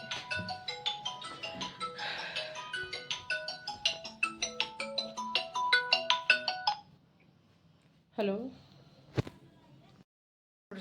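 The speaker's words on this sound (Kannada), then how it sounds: "ಸಂತೋಷ್ ಅವ್ರು ಫೋನ್ ಮಾಡಿದ್ರು" A mobile phone rings for an incoming call with a bright, repeating melodic ringtone that plays in quick rhythmic bursts for several seconds. It then cuts off, followed by a couple of short handling noises.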